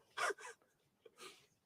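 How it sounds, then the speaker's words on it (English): A dog gives two quick barks, then a third a moment later, sounding somewhat distant against a quiet background. "That was a dog bark."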